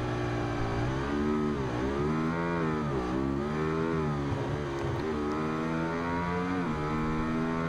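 A Ducati Superleggera 1299 motorcycle engine in the racing game Ride 2, revving hard and continuously, pitch climbing and dropping through gear shifts as it races around the track, loud and close with no talking.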